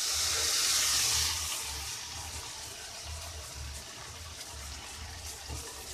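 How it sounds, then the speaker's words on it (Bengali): Water poured into a pan of chicken curry with ginger-garlic paste, a loud gushing splash at first that settles into a softer bubbling simmer, close up with no talk. "জল দিয়ে দিয়ে দেবো"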